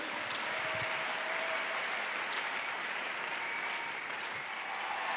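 A church congregation breaks into steady, sustained applause, a dense wash of clapping that fills the room at an even level for several seconds without a break.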